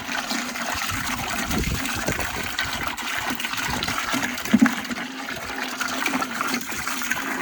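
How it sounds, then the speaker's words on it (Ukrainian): Water gushing and pouring into a container of fertilizer concentrate for spring watering of grapevines, a steady close rushing splash that runs throughout without talk. "додаємо це все водичкою"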